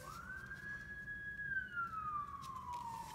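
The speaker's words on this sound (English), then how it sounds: "Guys, I'm so sorry for the sirens." A single siren wails in a long rising and falling sweep, moderately distant, over a low rumble of city traffic.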